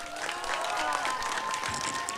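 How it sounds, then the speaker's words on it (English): Steady applause from a crowd at a Domestic Violence Awareness Month launch event, with sustained even clapping throughout and a faint tonal hum running beneath it. "Another round of applause"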